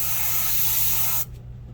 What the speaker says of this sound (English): I'm going to spray the top side of it and fade down until that line is gone